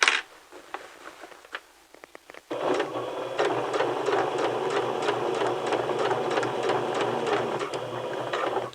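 A sewing machine stitching a skirt seam, starting after a few faint clicks and then running steadily with a loud, close, rapid mechanical whir until the end.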